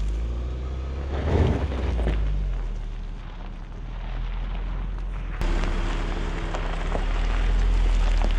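A 2022 Jeep Grand Cherokee 4xe in mud and sand mode climbing an off-road slope at full throttle, a loud sustained engine drone with rumbling tire and ground noise, steady throughout.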